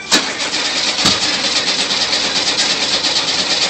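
Rebuilt 1600 cc engine starting for the first time, a couple of sharp cranking pops giving way to a loud, steady, close running roar.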